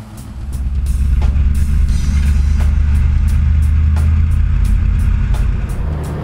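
A car with a Holley carburetor, freshly fitted with new jets, pulls away with a loud, deep engine rumble that builds and holds steady, accompanied by rhythmic thumps from the road.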